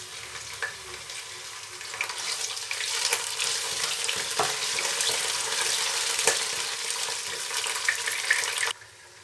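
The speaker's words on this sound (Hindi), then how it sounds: "अब मैं डालूंगी चिकन इसके अंदर, ताकि चिकन भी हमारा भुन जाए।" Chicken pieces sizzling and frying in a pan of golden-browned onions for chicken vegetable rice, a steady loud crackling hiss that holds for about nine seconds with occasional stirring scrapes, then drops off abruptly at the end.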